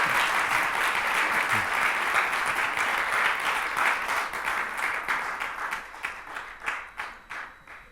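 Church congregation applauding in a service, dense clapping from many people that holds strong, then thins into separate, scattered claps and dies away toward the end.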